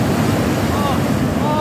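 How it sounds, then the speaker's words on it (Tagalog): Strong ocean waves roll and crash at a cold fishing spot, a dense continuous roar mixed with wind buffeting the microphone, loud and close throughout. "sobrang lakas ng alon"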